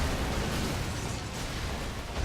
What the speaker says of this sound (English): There's a lot of explosions going on.